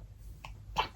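A short, sharp sneeze bursts out at the very end after a quick inhaled breath, close and loud against a quiet background.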